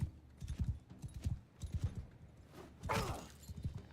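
Horse hooves clip-clop in the game Mount & Blade 2, a quick, fairly faint rhythmic series of beats with a brief crash near the end.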